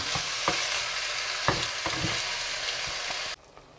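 Chicken pieces sizzle loudly and steadily as they brown in a hot pan, with a few soft stirring knocks, before the frying sound drops sharply near the end.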